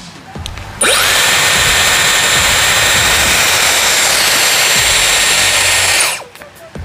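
A Dyson Airwrap hair styler roars to life after a second with a powerful high-pitched blow, holds a loud jet-like whoosh for about five seconds, then winds down abruptly.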